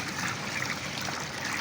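Hot water being poured and stirred into bird feed, a steady, close wet trickling and sloshing that runs evenly throughout without pauses or voices.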